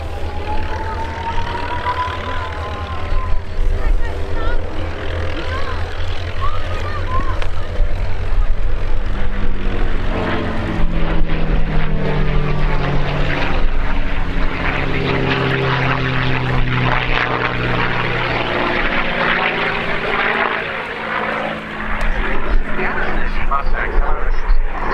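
A P-51D Mustang warbird with a V12 Merlin engine roars past at the RAF Cosford airshow, a loud, sustained propeller drone whose pitch sweeps as the aircraft passes, with crowd voices mixed underneath.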